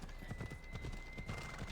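Horse hooves clip-clop in a steady rhythm as a mount is ridden through an area in Assassin's Creed Odyssey, with a faint neigh and a continuous background hum throughout.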